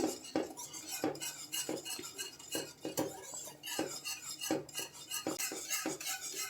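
A spoon stirring custard milk in a pan, giving repeated metallic scrapes and clinks against the pan in a steady, uneven rhythm, close and fairly quiet, with no talking.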